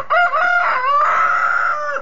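Free-range hens on a farm call out loudly and close by in one drawn-out, rising and wavering squawk that lasts about two seconds.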